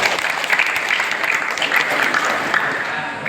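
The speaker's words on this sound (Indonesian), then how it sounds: "tepuk tangan untuk kita semua" A village gathering in Tanggerang, Jelai Hulu, breaks into steady, close, energetic clapping from a crowd, dense and continuous throughout.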